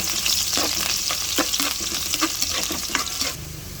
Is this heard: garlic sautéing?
yes